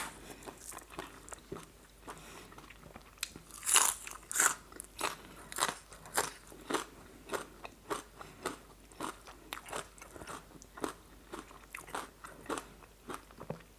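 Frozen green papaya salad eaten with salmon noodles and prawns, giving loud, close crisp crunches and chewing bites in an irregular rhythm, with no talking.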